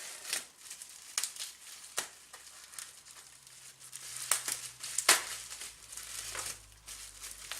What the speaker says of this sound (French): donc on va essayer de déballer tout ça.